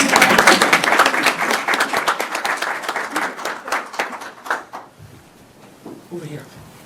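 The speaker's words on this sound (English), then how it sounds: "You should clap as they come up too." An audience at an awards ceremony claps loudly as a recipient comes up, dense applause that gradually thins into scattered claps and fades out over several seconds.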